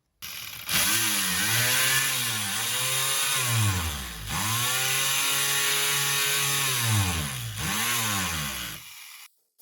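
A cheap Chinese oscillating multi-tool fitted with a wood attachment sands a clamped piece of wood in three long buzzing runs, a loud, close droning whine that sags and recovers as it bites, with short pauses between runs.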